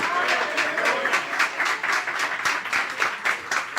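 Congregation applauding during a church sermon, steady dense clapping throughout at moderate loudness, with a faint voice underneath.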